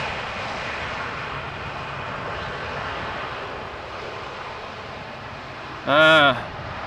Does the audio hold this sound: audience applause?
no